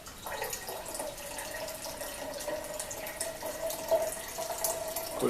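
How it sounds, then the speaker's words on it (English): Water rushes down into a container while a solution is being diluted, a soft, steady pouring trickle with faint splashes, fairly quiet and alone. "Of course, you have the water rushing down"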